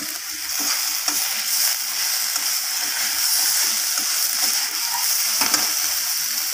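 Vegetables and a hilsa fish head being sautéed in a pan for a mixed-vegetable chorchori, with steady close sizzling and frying broken by repeated scraping stirs of a spatula.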